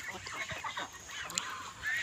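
Ducks honking nearby in a short burst of nasal calls with outdoor background noise and no talking.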